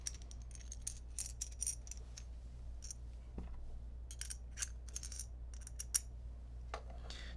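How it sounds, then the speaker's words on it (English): Base plate being fitted to the bottom of a Blackmagic 6K Full Frame camera rig with two screws, giving quiet scattered metallic clicks, taps and handling rattles over a low steady hum, with no speech. "So the first thing I want to do is put on the base plate."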